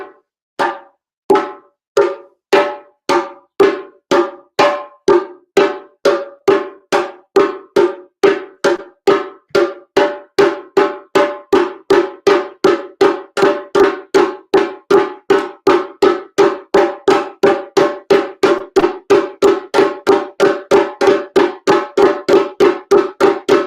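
Hand drum tone strokes ring out in a long, steady series of sharp, evenly spaced hits, about three per second, loud and close, each with a bright ringing tone, alone without voices.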